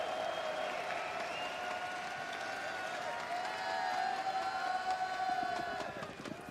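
At a Counter-Strike: Global Offensive esports event, the arena crowd cheers and applauds during a tactical timeout, a dense, continuous roar of clapping and shouting that swells slightly partway through.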